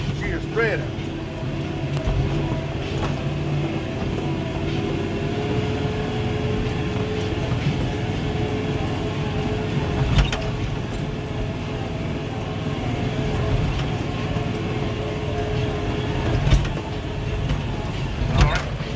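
A fertilizer spreader runs over bumpy ground, with a steady engine rumble, rattles and creaks and occasional knocks, heard from on board at close range.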